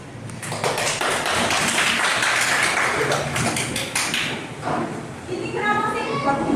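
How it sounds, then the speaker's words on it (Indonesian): Students in a micro-teaching classroom applaud: dense, sustained clapping from a group fills the room for several seconds, with children's voices mixed in, then tapers off as voices continue. "Tepuk tangan."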